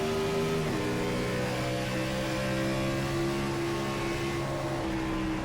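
A NASCAR Gen 4 race car in the iRacing game at Homestead hums with a steady, moderate engine drone, its pitch dropping once early as it lifts off, then holding level without voices.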